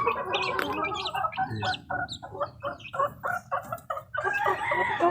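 Young chicks in a sack-roofed pen peep and cluck in a rapid, regular string of short calls, close and fairly loud, with no talking.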